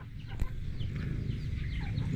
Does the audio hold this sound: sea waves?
no